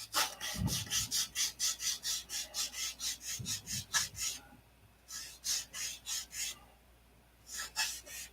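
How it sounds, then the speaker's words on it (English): Dented balsa wood is sanded by hand in quick, rhythmic back-and-forth rasping strokes, close and distinct, with a short pause partway through before the strokes resume. "so now I got to sand it"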